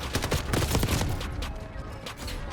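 Rapid gunfire from the Black Ops 6 video game with an ABR A1 rifle, a dense run of sharp shots strongest early and thinning toward the end, mixed with game effects.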